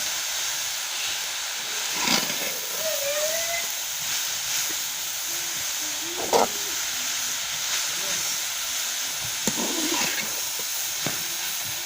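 Grated carrots for gajar ka halwa roast in a pan, a steady hissing sizzle running throughout with occasional clinks and scrapes of stirring, near and moderately loud.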